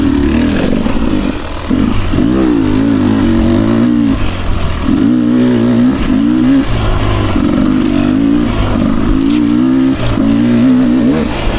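A 2024 Beta 300RR Racing Edition dirt bike engine, running a stock spark plug, revs loudly and close, its pitch rising and falling in repeated bursts over a steady throbbing idle, with no voices.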